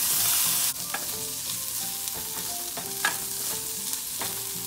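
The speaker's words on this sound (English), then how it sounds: "Once the capsicum is fried well, now I'm going to add the corn." Capsicum and corn kernels fry in a pan for paneer corn dosa, a loud opening hiss giving way to steady sizzling with repeated clinks and scrapes of a spatula stirring, close and without speech.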